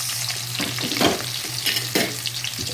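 Onions frying in a hot pan for a mussel and shell coconut-milk dish, a steady sizzle with a few louder bursts as the food is stirred; no one speaks.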